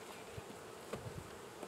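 Honey bees buzzing on a hive frame during a beekeeping class in Swanzey, New Hampshire, a faint steady drone with a few nearer passing buzzes.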